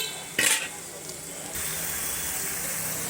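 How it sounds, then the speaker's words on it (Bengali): Chili powder and turmeric stirred in hot oil, a quick scraping clatter of a spoon against the pan, then a steady close sizzle that grows louder and holds. "লঙ্কা গুঁড়ো, হলুদ গুঁড়ো দেওয়ার পরে ভালো করে নাড়াচাড়া করে নিলাম"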